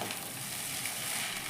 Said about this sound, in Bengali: আমি গোটা ঝুড়িটা এখন ডিমের সাথে মিশিয়ে দিচ্ছি